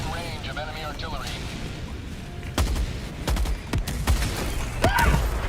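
Enemy artillery barrage in the video game Helldivers: a series of sharp, loud blasts and crashes land in quick succession over a steady background rumble, with a synthetic voice speaking near the start.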